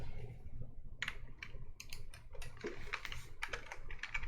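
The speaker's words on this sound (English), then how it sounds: "Intense typing is heard." Intense typing on a computer keyboard: rapid, irregular clicks and clacks of keys, close and steady throughout, with no talking.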